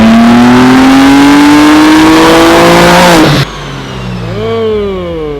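A tuned BMW G80 with upgraded injectors screams through a loud dyno pull, its engine note climbing steadily in pitch for about three seconds, then cutting off abruptly and settling into a lower, wavering rev as it winds down.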